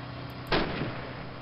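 A single loud, booming shot from heavy gunfire in the World War II shooter Call of Duty: United Offensive, a sharp blast that decays quickly over steady background battle noise.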